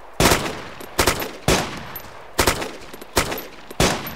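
Six sharp gunshot bursts crack out at roughly even intervals in the Arma video game on the Chernarus map, each loud and close with a short decaying tail, no voices over them.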